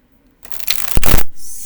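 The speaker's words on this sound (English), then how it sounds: "Yeah, these are really nice to shuffle." A Lost Hollow tarot card deck is shuffled by hand in a short, close burst of papery riffling that ends in a soft flutter, heard alone.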